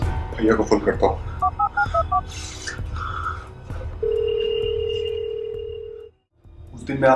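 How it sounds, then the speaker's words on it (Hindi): A phone keypad beeps out a short run of dialing tones close up, followed by a long steady ringback tone. Someone speaks Hindi just before the keypresses, and another voice follows after the tone. "भैया को फोन करता हूँ।"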